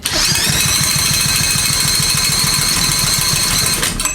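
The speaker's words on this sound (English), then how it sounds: "So I'm going to go spin it now with my drill." A steady, loud mechanical whir with rapid low chugging pulses as a power drill turns an engine over during a compression test, running continuously before stopping abruptly.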